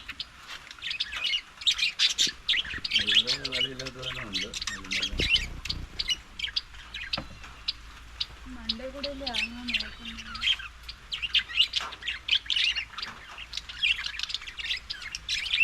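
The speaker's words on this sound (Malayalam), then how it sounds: "കിളികളെല്ലാം പേടിച്ചു പോയി" Frightened caged birds squawking as a snake enters their cage, harsh repeated squawks and chirps packed close together throughout, loud and near, with a few lower drawn-out calls partway through.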